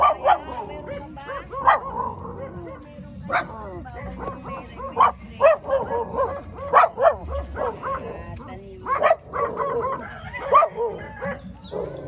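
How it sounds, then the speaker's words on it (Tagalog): Repeated dog barks and yips come in irregular bursts, fairly close, with people talking in the background throughout at a vegetable farm. "Tahol ka ng tahol."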